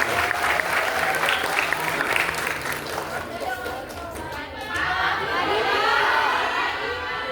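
Audience at a public lecture at a university in Bandung applauds, a dense steady wash of many hands clapping that swells again near the end, with crowd chatter mixed in.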